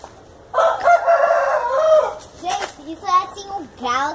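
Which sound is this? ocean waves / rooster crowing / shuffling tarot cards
rooster crowing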